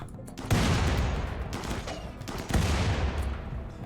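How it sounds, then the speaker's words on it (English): Grenade launchers firing in the game RimWorld: two heavy bursts, one near the start and one about two seconds later, each trailing into a sustained rumbling barrage of explosive fire. "Those grenade launchers make fucking short work of our defences."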